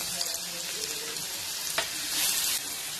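Onion and green chillies hit hot oil for paneer bhurji, making a bright, close, continuous sizzle with a brief spoon knock and a louder surge of hissing near the end.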